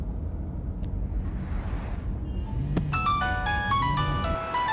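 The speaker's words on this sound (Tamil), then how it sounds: "ஏங்க அந்த ஆள் ஃபோன் அடிக்குதுங்க." Mobile phone ringtone, a bright electronic melody of repeated tones that starts partway in and grows clearer over a low rumbling background, heard in a Tamil film scene.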